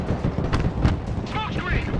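Artillery volleys boom in the video game Broken Arrow, heavy low thuds and blasts repeating through a dense battle mix, with brief whistling tones partway through.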